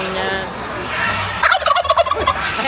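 Turkey gobbling at the Sydney Royal Easter Show, a burst of rapid, rattling gobbles close by, rising over a steady fairground hum with the crowd's chatter in the background.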